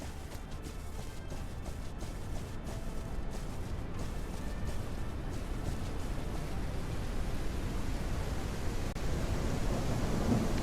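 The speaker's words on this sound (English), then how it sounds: "Another storm?" A thunderstorm in the horse-herding game Legend of Khiimori, heard as a steady broadband roar of rain and rumbling thunder, loud and continuous throughout without any voices.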